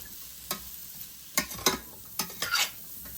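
Vegetables cook in a pot for homemade chicken pot pie, a low sizzle under a handful of sharp stirring scrapes against the pot, close by and with no voices.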